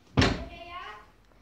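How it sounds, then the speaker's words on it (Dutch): A door shut indoors at home, a single sharp thud at the start followed by a faint ringing decay, with children's voices heard around it. "Doe de deur dicht hoor."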